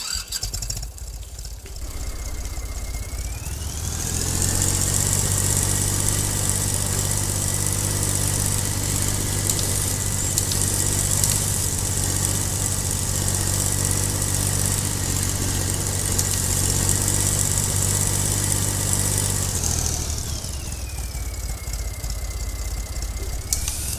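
A tractor engine in Farming Simulator 22 runs at a steady idle, loud and continuous with a low droning rumble, after a brief quieter start; no voices are present.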